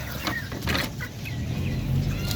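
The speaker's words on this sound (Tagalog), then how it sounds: "Ito mga extra rooster natin na darag." Several native Darag roosters cluck and murmur close by in a farmyard, with scattered short calls over a steady background.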